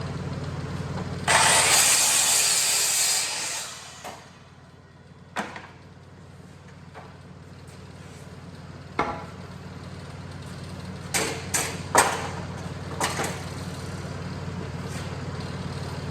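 Miter saw cutting the front board of a wooden fireplace mantel, a loud whining burst of about three seconds that winds down, followed by scattered clunks and knocks of handling.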